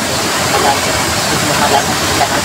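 Floodwater rushes in a steady, loud broadband roar like a torrent or waterfall, continuous throughout with slight surges; no distinct voices stand out.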